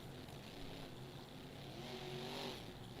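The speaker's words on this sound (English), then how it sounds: "I'm hearing monster truck noises when the stream is No. muted." Monster truck engines drone and rev steadily in the background, a faint, continuous rumble with rising tones and no talk over it.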